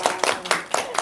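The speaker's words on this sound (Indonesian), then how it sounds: "Tepuk tangan dong." A short burst of audience applause at an academic visit, with about five distinct sharp claps in a loose rhythm, fairly close and loud.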